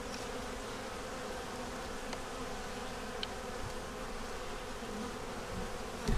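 Honey bees buzz steadily inside a hive holding a yellow queen, eggs, brood and sugar stores, a dense continuous drone heard close up with no voices over it.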